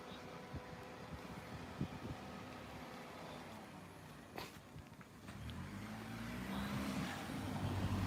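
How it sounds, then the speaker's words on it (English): A car drives by on a quiet back street of a Japanese castle town at sunset, its engine swelling from a soft distant hum into a louder, closer rumble toward the end, over steady outdoor ambience. "Let this car go by."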